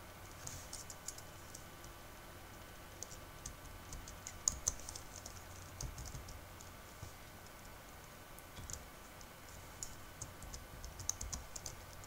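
Steady typing on a computer keyboard, many light clicks in an uneven run, with a few firmer keystrokes standing out over a constant low background hum.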